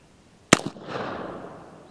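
An 1851 Colt .36 caliber black powder revolver fires a single conical bullet outdoors: one sharp, loud bang followed by a long rumbling echo that fades over about a second and a half.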